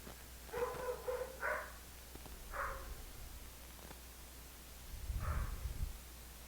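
Several muffled dog barks in short bursts, a quick double bark followed by single barks, from somewhere off in the house and faint against a steady background hiss.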